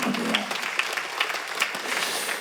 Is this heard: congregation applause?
yes